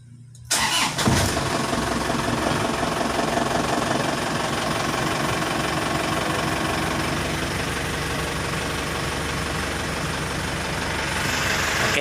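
An Isuzu Elf truck's engine starts and settles into a steady, loud idle, a continuous rumbling drone with a faint knocking texture running on alone without any voices.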